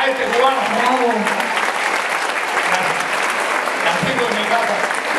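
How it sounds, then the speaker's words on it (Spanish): Audience applause for a Cuban performer receiving an honorary plaque at a live event, loud continuous clapping with voices rising through it. "fuerte el aplauso para este cubano"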